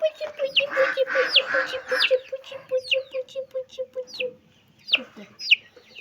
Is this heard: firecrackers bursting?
no